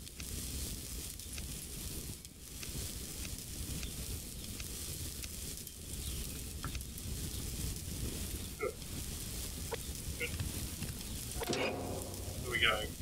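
Soft, steady crackle and sizzle from berry water cooking over a campfire in the survival game Subsistence, faint and continuous with a few light clicks near the end.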